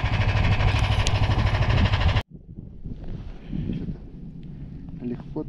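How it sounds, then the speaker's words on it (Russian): Loud, steady wind roar buffets the microphone for about two seconds, then cuts to quieter gusty outdoor noise with faint voices in the background, in taiga strong enough to tear at a tent. "вот такое ветрище палатку отрывает"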